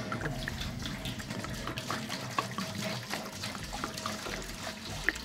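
Tap water runs into a brewing pot being filled to about 2.5 gallons for hop tea, a steady splashing stream with small clinks and trickles, fairly faint and heard alone.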